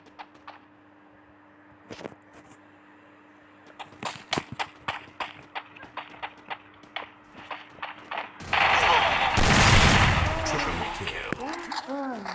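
Gunfire in the video game Free Fire, a run of sharp single shots growing into rapid bursts, then a loud dense barrage, with a voice talking over it.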